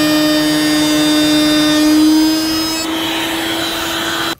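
A router cutting a circle into MDF, held with a GRR-ripper gripper, a loud close high-pitched whine that steadies, drops slightly in pitch partway through, then cuts off abruptly at the end.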